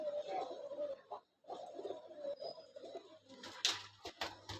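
Pigeons kept at home cooing nearby, low throaty coos repeating in soft rolling phrases, with a brief pause and some rustling and fluttering toward the end.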